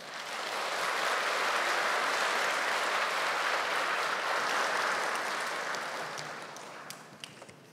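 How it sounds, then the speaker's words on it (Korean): Steady congregational applause in a church welcoming a preacher to the pulpit, a sustained wash of many hands clapping that fades gradually toward the end, with no talking over it. "전소리 전도사님 나오실 때에 동안의 박수로 환영해 주시면 감사하겠습니다"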